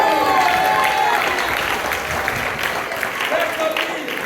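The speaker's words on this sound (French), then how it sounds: "On applaudit le Seigneur pour ça." Congregation applauding at a church service, sustained clapping from a crowd that stays loud and gradually eases off, with a voice briefly heard over it.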